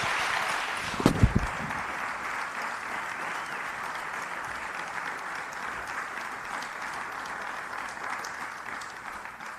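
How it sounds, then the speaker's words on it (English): Sustained applause from a workshop audience fills the room, steady and dense throughout, with a few louder claps standing out near the start. "Please, can we give him another round of applause?"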